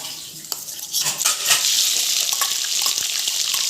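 Onion paste hits hot oil for a chicken curry, bursting into a loud, bright sizzle that swells after about a second and keeps hissing steadily, with scrapes of stirring near the pan.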